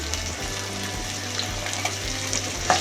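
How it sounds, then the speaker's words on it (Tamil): Onions with garlic cloves sauté in a pan, giving a steady close sizzle throughout. Light stirring clicks sound over the frying. "இப்போ இந்த வெங்காயம்லாம் நல்லா வதங்கணும். அப்புறம் இது கூடவேவும் நம்ம எடுத்து வச்சுருக்க பூண்டு பற்களெல்லாம் சேர்த்துக்கலாம்."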